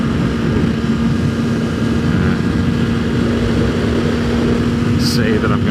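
Steady, loud motorbike engine hum running continuously throughout, with a constant low drone and broadband wind-like noise, a brief faint higher sound near the end.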